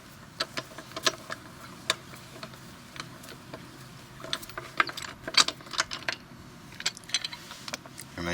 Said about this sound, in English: Start with the locking wheel nut first, make it a bit easier for yourself.